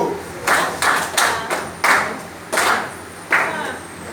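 A class claps out a rhythm exercise in sharp, separate bursts with uneven gaps for rests, fairly close and clear in a room.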